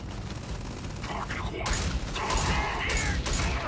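Gunfire from a space battle in Starfield, with mechanical clanks and rumbling bursts that build into dense, continuous firing in the second half, under a busy game soundscape.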